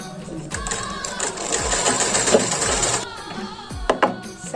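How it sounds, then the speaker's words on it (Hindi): A sewing machine stitches cloth at a home tailoring and stitching setup, running as a steady fast whirr for about two and a half seconds, then stopping amid a few clicks and handling knocks. "आज फाइनली सिलाई विलाई करत हूँ मैं यहाँ"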